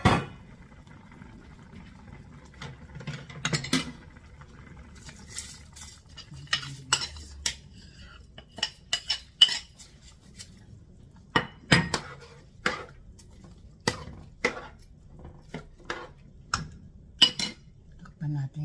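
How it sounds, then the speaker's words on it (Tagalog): Rice going into a pot of Filipino chicken arroz caldo and being stirred, with repeated clicks and scrapes of a utensil against the pot over a quiet low simmer, and brief talk near the start. "Lagay na natin yung bigas."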